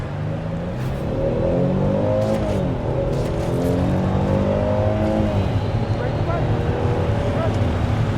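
2023 Hyundai Palisade V6 SUV accelerating hard to 60 mph, a steady droning engine note climbing in pitch through the gears, heard from inside the cabin and continuous throughout.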